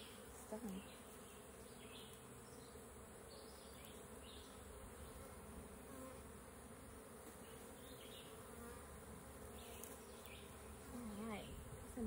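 Honey bees buzzing around an open hive during an inspection, a continuous faint hum with individual bees droning close past at moments and no talking.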